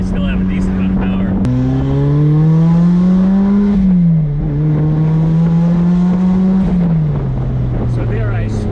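A turbocharged Toyota MR2 engine pulls hard from inside the cabin, its drone rising through the revs, dipping briefly at a gear change, then climbing again, loud and continuous with a voice talking over it.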